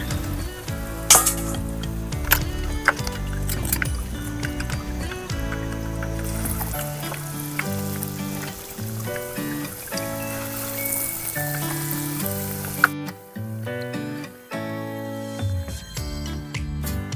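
Potatoes for cheese-shaken crispy fries bubble and crackle in hot oil in a loud, dense sizzle that runs throughout, with scattered sharp pops and clatter from handling the basket, close by and without speech.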